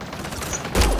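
A gunshot in Mass Effect Andromeda, cutting in as one loud, abrupt blast near the end of a short, busy stretch of combat noise.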